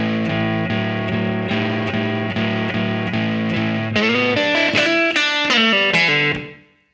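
Unaccompanied blues guitar solo, second section moving to the four chord, A: a steady repeated rhythm pattern that shifts into busier higher licks near the end before ringing out and fading, played alone.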